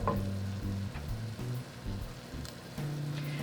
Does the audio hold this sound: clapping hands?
no